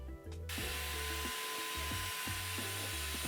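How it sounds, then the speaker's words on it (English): An HVLP sprayer applying finish to box shelves gives a loud, steady broadband hiss that fills the whole clip, with a faint lower droning hum beneath it. "When applying finishes, I like to go with an HVLP sprayer"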